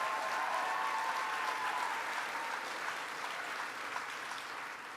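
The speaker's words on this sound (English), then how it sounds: "Let's give Kimberly Guilfoyle a round of applause." A Texas Youth Summit audience in Montgomery County gives a sustained round of applause, a dense, fairly distant wash of many hands clapping that slowly fades over several seconds without speech.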